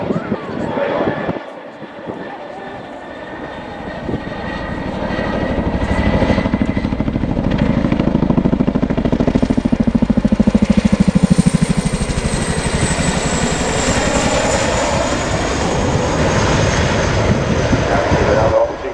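Boeing CH-47 Chinook helicopter performing a flying display, its loud twin-rotor and engine roar swelling as it pulls up into a nose-over manoeuvre, with a commentator speaking over it throughout.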